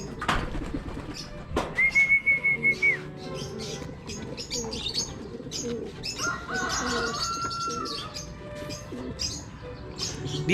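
A flock of domestic pigeons coos and flutters nearby, with soft cooing, scattered chirps and wing flaps, plus a brief whistling tone early on.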